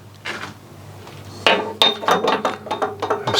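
A torque wrench tightening the sump plug on a BMW 330e hybrid during an oil service: a sharp metallic clink, then a quick series of clicking, ratcheting taps, close to the microphone, with no talk.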